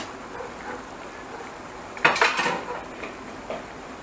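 Barbecue chicken is flipped in a smoking non-stick pan: a sharp utensil clank against the pan is followed by a short clattering scrape, set against a quiet background with light cooking noise.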